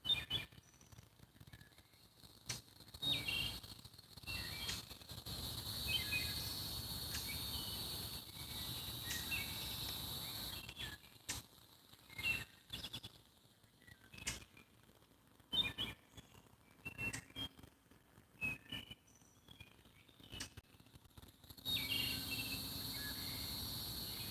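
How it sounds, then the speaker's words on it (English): Birds chirp and call intermittently over a steady buzz of insects, with occasional short tweets standing out against the evening ambience. "I don't know if y'all can hear the birds."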